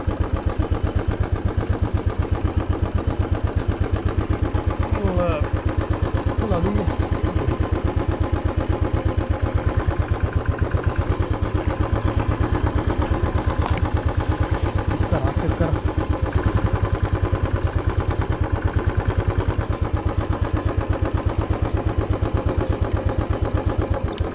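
Motorcycle ridden through a village, its engine a steady, close pulsing drone that holds for the whole stretch with no talking over it.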